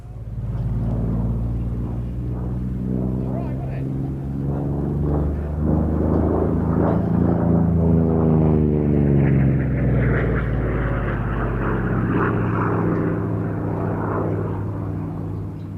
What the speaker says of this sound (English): The OFMC's Corsair sports a New Zealand Navy livery.